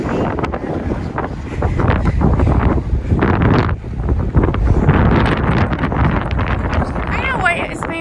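Loud gusty wind buffets the microphone outdoors at Mammoth in Yellowstone, roaring in uneven surges for the whole stretch with brief lulls, while voices talk faintly underneath.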